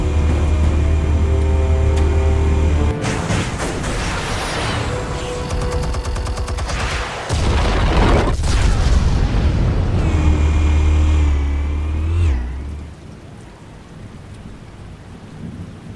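Explosives detonating in Batman: The Telltale Series, a dense roaring barrage of loud blasts and rumbling debris lasting most of the stretch, with a sharp crack partway through before fading into a quieter low rumble.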